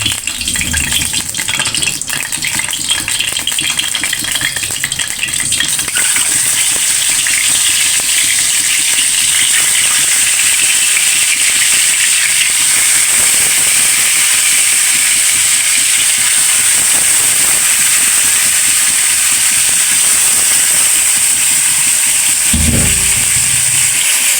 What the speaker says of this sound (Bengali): আমাদের তেলটা গরম হয়ে গেছে এখন মাছগুলো দিয়ে দিবে